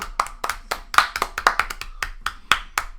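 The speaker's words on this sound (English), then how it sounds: "Was that just a clap for Daniel Evans?" Sparse clapping from a few hands in a small podcast room, with distinct, close, irregular claps over about three seconds and almost no voices.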